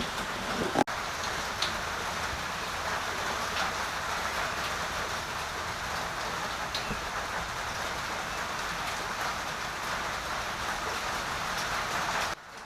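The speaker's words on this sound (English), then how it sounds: "Hopefully you can hear me with this rain." Steady, heavy rain hisses continuously, drumming on a surface nearby, with a faint click near the start and no voices.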